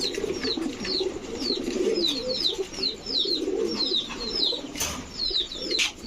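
Danish Magpie pigeons coo in low, throaty rolls, overlapping almost continuously, while small birds chirp brightly and repeatedly above them.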